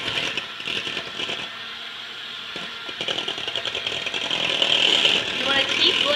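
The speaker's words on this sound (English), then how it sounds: "You want to keep blending until the mixture is well blended and smooth." Electric hand mixer whirring steadily as it blends a quiche mixture in a bowl, a continuous buzzing drone that grows slightly louder toward the end, with a voice talking over it.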